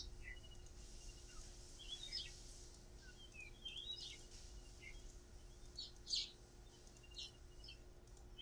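Small birds chirp and tweet in a video game forest scene, giving short high calls scattered at irregular intervals. They sound faint and somewhat distant over a quiet, steady background hum, with no speech.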